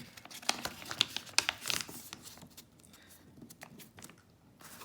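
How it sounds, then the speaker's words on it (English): A paper page being folded, with soft crinkling and rustling in quick bursts, close and fairly quiet, fading into lighter handling noises. "So let me just fold the page again."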